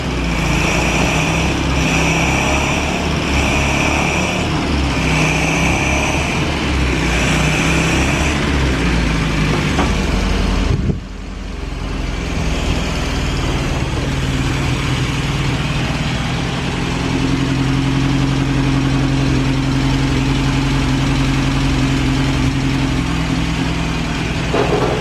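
1930s Talbot or Morris car engine idling cold in a garage, a loud, steady, somewhat flat-sounding rumble that dips briefly midway and then settles into a lower, even idle, with no talking.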